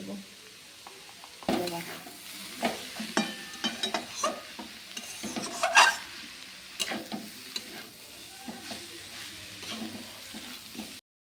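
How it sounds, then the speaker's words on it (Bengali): Cabbage sautéing in a pan for a quick bandhakopi ghonto, with irregular stirring scrapes and clatters over a soft steady sizzle, moderately close and alone. "আমরা ভালো করে ঢাকা দিয়ে দিয়ে বাঁধাকপিটাকে কষিয়ে নেব"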